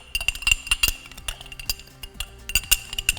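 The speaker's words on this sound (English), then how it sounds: "I'm just going to give that a little bit of a stir" A spoon stirs ground spices, thyme and salt, in a bowl, tapping and scraping against the sides in a quick, uneven series of bright clinks, close up and without talk.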